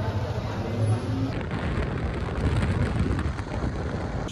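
Rain falls steadily outside while people shelter under cover, a dense, continuous wash of noise with low rumbling underneath and no voices.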